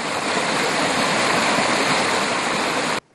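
The Sabaloka waterfall at the Sixth Cataract of the Nile roars in a dense, continuous rush of falling water, loud and steady until it cuts off abruptly at the end.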